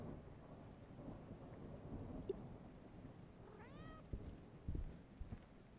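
A ghostly, cat-like mewl from the Demonologist horror game: one wavering, pitch-bending wail partway through, set over a low rumbling storm-like ambience and followed by a few dull thumps.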